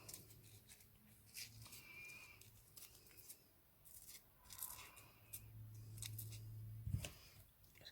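Scissors trim faux leather on a handmade glitter cheer hair bow, giving soft, quiet snips and rustling handling sounds spread through the stretch, with a faint rub near the end.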